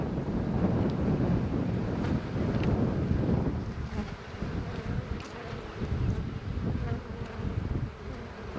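Wind gusting across an open beehive in February, a loud continuous rushing roar close to the microphone with a buzzing, droning texture of bees mixed in throughout.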